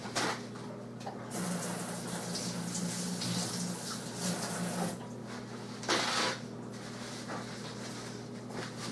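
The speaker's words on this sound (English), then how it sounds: "Let me go wash my finger off." A kitchen water tap running steadily while a finger is rinsed beneath it, a close hissing splash that shifts in tone as the hand moves through the stream.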